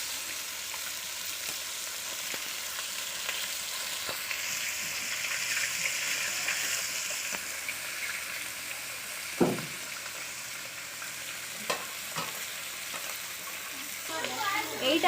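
Pieces of rohu fish fry in oil in a kadai, giving a continuous hissing sizzle with occasional stirring clinks and louder bursts of crackle near the end, with a voice talking over it at times.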